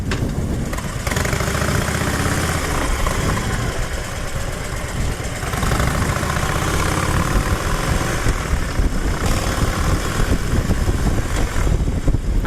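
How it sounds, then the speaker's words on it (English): A rubber-mounted Harley-Davidson Switchback engine idles just after a cold start, a steady, low, loud rumble running unbroken and close throughout. "Nice beautiful cold start on a Harley Switchback. It's got the classic Harley rumble."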